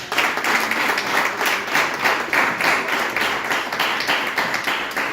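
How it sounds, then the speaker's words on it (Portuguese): Church congregation applauding in praise during a Wednesday service at a house of prayer, steady crowd clapping with a loose pulsing rhythm that continues throughout, fairly loud and close, with no speech over it. "Que as palmas louvam ao Senhor."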